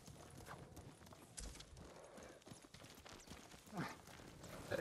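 A horse gallops in Ghost of Tsushima, its hooves clip-clopping in a quick, uneven rhythm at moderate distance, with occasional louder thumps and a brief whinny-like sound near the end.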